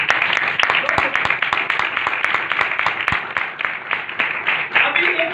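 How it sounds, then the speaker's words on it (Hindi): A congregation claps at a Sunday church meeting, brisk, loud rhythmic clapping with sharp individual hand strikes running throughout, voices mixed in. "तालियों बजाए भाई।"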